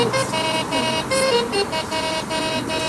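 A novelty alarm clock shaped like a mafia car honks its horn in a rapid run of repeated toots, loud and close, with no talking over it.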